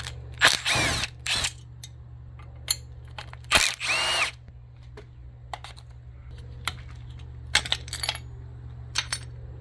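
A Sea-Doo power valve being machined with a power tool, heard as short loud whirring bursts separated by sharp metallic clicks and clinks over a steady low hum.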